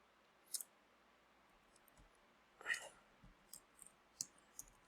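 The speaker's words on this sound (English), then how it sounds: "So I'm typing this out" A few sparse, quiet clicks and taps of keys at an uneven pace, close by in a hushed room.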